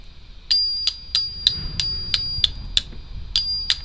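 Small metal bell on a Rokr Robotime London marble run model rings in a regular series of about ten bright, close dings, each with a short ringing tail.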